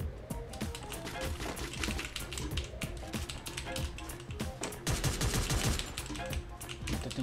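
Rapid gunfire crackles in bursts during a Free Fire match, dense overlapping shots rattling along continuously at a fairly low level.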